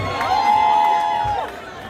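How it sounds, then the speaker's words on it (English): Guests at a red carpet gala cheer and applaud a line of women, the crowd noise punctuated by a long, shrill, high whistle that rises and holds before trailing off. "Can we have a round of applause for all these lovely ladies?"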